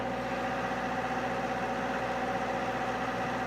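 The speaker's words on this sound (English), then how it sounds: "The compressor is now running. You need to let it idle for about 5 minutes to warm up." A 210 air compressor engine idles steadily during warm-up with its doors shut, a continuous mid-pitched hum with a droning tone that stays even and fairly close throughout, with no talk.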